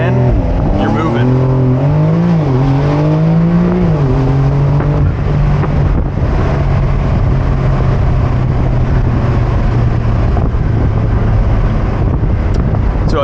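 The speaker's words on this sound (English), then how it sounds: "It's going to enter launch control and you're moving." A Porsche 911 Carrera 4S Cabriolet launches hard from a standstill, its engine note climbing steeply through the revs, then settling into a loud, steady roar with heavy wind buffeting the open cabin.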